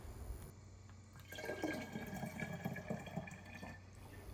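Liquid is poured from a large Pyrex dish into a smaller one during home preserving, a steady trickling stream with light splashes, close and quiet.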